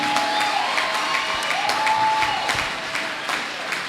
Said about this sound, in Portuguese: Aplaudimos a glória do Senhor Jesus.